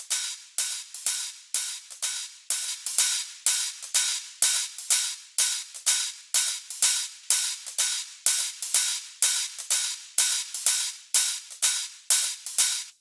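Heavily compressed hi-hat loop repeating in a steady, fast rhythm, each bright hissy hit swelling and pumping with little punch, loud and alone with no talk.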